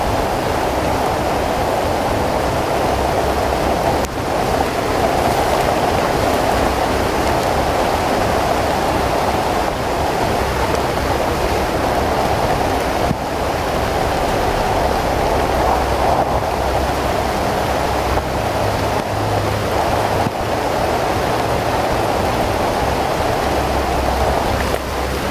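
A dense, steady roar of heavy rain pours down without letup, a broad continuous wash of noise, close and loud.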